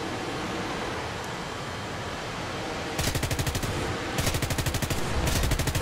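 Aircraft cannons of a J29a Tunnan jet in War Thunder hammer out two rapid, loud bursts of automatic fire over a steady roar of engine and rushing air, the second burst longer and more sustained.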